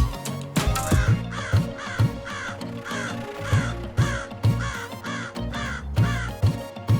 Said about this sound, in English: This is Crow.